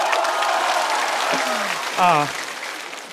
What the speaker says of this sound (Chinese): 这个商务值得一个掌声。